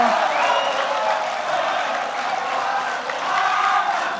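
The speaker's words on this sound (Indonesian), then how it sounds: "kita beri tepuk tangan untuk 2 pasang calon kita" An audience applauds steadily at a 2014 Indonesian presidential debate, a dense wash of clapping and crowd noise that stays loud for the whole stretch.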